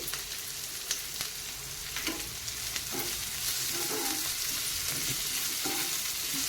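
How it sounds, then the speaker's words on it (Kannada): Onions frying with a pinch of salt for an onion sagu, a soft, continuous close sizzle broken by repeated stirring scrapes and taps of a spatula, with no voices. "ಈಗ ಇದು ಫ್ರೈ ಆಗೋದಕ್ಕೋಸ್ಕರ ನಾನಿಲ್ಲಿ ಸ್ವಲ್ಪ ಉಪ್ಪನ್ನು ಕೂಡ ಸೇರಿಸ್ಕೊತಾ ಇದ್ದೀನಿ ಈರುಳ್ಳಿಗೆ"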